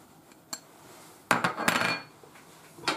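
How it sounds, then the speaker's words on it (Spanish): Avocado gazpacho ingredients, with egg, stirred with a utensil in a bowl, giving a few sharp clinks and scrapes against the dish, two close bursts in the middle and a lighter tap near the end. "Y ahora lo removemos todo. Para que se mezcle bien."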